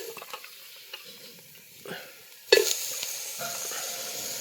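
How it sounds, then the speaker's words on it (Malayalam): Chicken pieces dropped into a hot pan with spices, breaking into a sudden loud sizzle that keeps crackling steadily, preceded by quieter stirring and scraping, close up with no voices. "ഓക്കെ, ഇനി ഇതിലേക്ക് ചിക്കൻ ഇട്ട് കൊടുക്കുക."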